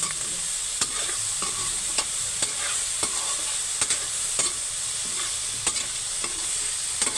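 Mung beans sauté in a pan with a steady broadband sizzle, punctuated by regular sharp clinks and scrapes of stirring at close range, with no talking.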